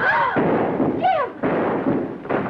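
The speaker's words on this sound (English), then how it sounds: "He just shot Jim." Gunfire in a black-and-white 1935 western film, a few sharp shots breaking over a dense, dramatic film soundtrack, loud and close.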